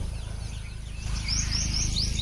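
Birds chirp around farm fields in the Kalvarayan hills, a quick series of short, bright repeated tweets in the second half, close and clear over a low rumbling background.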